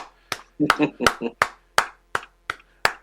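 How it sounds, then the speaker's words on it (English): About nine separate hand claps ring out on a radio show marking a birthday, first spaced, then a quick cluster, then slowing again. The claps are close and crisp, with a brief voice sound mixed in among them. "We'll give you a few claps."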